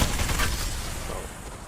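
An L-STAR energy weapon firing rapidly in Apex Legends, a loud sustained stream of shots with a heavy low thump running through the whole burst.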